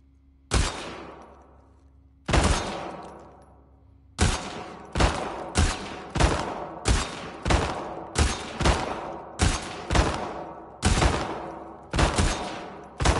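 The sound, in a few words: gunfire from a video game, The Last of Us Part II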